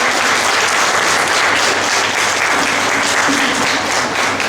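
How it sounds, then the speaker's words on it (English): Sustained, dense applause from a large audience at a college graduation ceremony for women, steady and loud for the whole stretch with no talk over it. "Let's give a huge round of applause to all the proud parents here."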